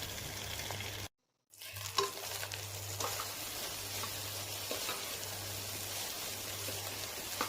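Cooked rice is tossed and stirred in a hot frying pan, giving a soft, steady crackling sizzle with light scraping strokes. A brief silent gap breaks it early, and a low constant hum runs beneath with no voices.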